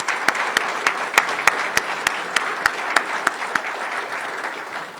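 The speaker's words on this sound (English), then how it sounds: "Please help me also give them a round of applause" An audience at a formal Somali diplomatic evening gives a round of applause. Steady, dense clapping fills the room, with sharp individual claps standing out at a regular pace. No voices break through.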